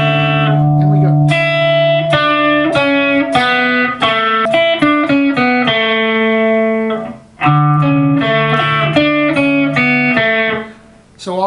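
Electric guitar picking pattern in the style of a well-known rock song, played on bridge and neck pickups together, with clean, bright plucked notes in a repeating rhythmic figure and brief pauses, close and without talking.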